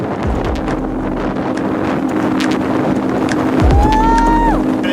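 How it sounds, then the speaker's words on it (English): Strong squall wind roars across the microphone as a reefed sailboat rips through the water, a continuous loud rushing gust with the boat's hull noise underneath and a brief voice near the end. "There's this big squall to the side of us, and we reefed down for it, but not enough, and oh, she's just ripping through."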